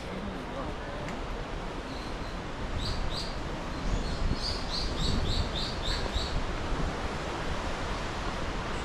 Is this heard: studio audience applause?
no